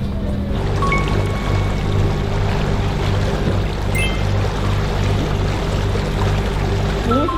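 A boat runs on the sea off Geoje in strong waves, with a loud, continuous rush of churning, splashing water and a steady low motor hum throughout.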